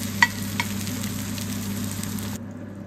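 Old leftover rice frying in a pan for Filipino garlic fried rice (sinangag), a steady, even sizzle with a couple of sharp clicks of a utensil near the start, then cutting off abruptly.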